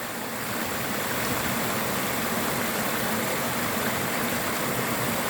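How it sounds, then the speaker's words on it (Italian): Mountain stream water flows steadily and continuously, a broad, even rushing wash with no voices over it. "E ancora seguiamo il corso del ruscello, di quest'acqua"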